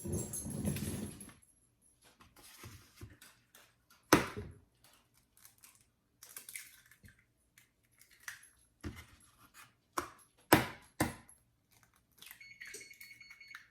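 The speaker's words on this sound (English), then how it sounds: "We're gonna crack our eggs over in here" Six eggs cracked one after another into a bowl for a pecan pie, a series of sharp, close taps and cracks separated by quiet pauses, with faint shell rustling in between.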